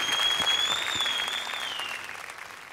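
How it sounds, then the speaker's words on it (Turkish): Studio audience applauding a singer on a Turkish folk music TV show, a dense, steady wash of clapping that starts loud and gradually fades, with a faint sustained tone running above it. "Canı gönülden alkışlıyorum."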